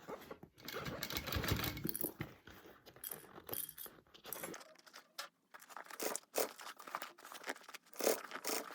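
A sewing machine stitches around the edge of a fabric Wonder Bag in quiet, intermittent runs, with crinkling fabric handling and small clicks between the bursts.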